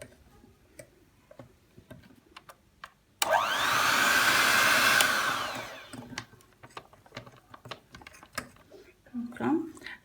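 An electric mixer beats chocolate cake batter flavored with Nescafé in a single steady whirring burst of about three seconds that winds down. Clicks and knocks of kitchen handling come before and after it.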